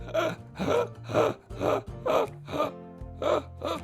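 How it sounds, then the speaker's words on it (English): A singer demonstrates inhales with reverse phonation: about eight rhythmic, voiced gasps drawn inward, each a short, breathy, moaning tone, close and alone. "He reverse phonates a little bit, and what that means is as the air comes back in, he closes down the chords a little bit."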